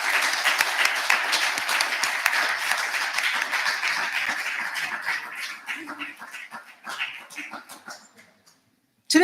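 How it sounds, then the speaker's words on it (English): Graduates and guests clap loudly at a graduation ceremony, a dense sustained burst of applause that gradually thins into scattered claps before stopping. "give a round of applause for those who have helped to get you to where you are today"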